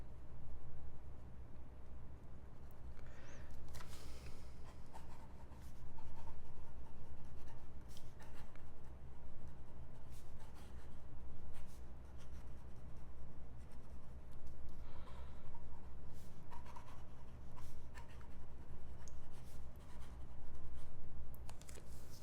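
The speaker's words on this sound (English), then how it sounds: "try fast writing. Gonna be making a mess here." A 14-karat gold ultra-flex fountain pen nib scratching quickly across paper, close and continuous, with short pauses and faint handling taps.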